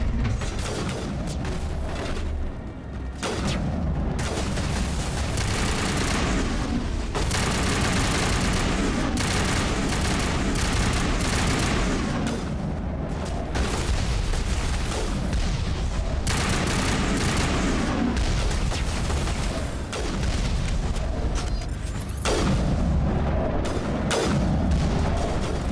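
Sustained sniper rifle and heavy weapons fire in the Mass Effect Legendary Edition game, loud, dense and continuous across the whole stretch with booming impacts and no talk over it.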